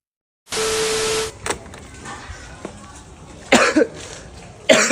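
After a burst of hiss, a person coughs up close a couple of times, with short sharp bursts spread across the clip.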